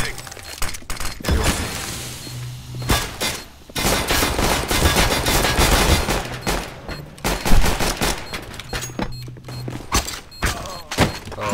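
Bursts of gunfire in a shooter video game, with rapid volleys, sharp cracks and thuds that run almost continuously, loud and close, while a player talks over them at times.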